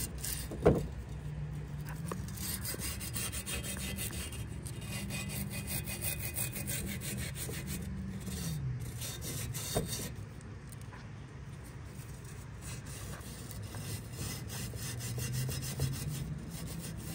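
Steady close scrubbing on a part of a Detroit Diesel 8V92TA engine being rebuilt, a continuous rasping rub with a droning hum beneath, one sharp knock near the start, with no talking.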